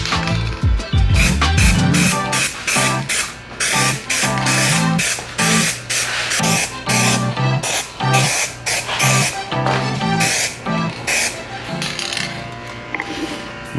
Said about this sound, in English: I'm just gonna go ahead and spray it right now.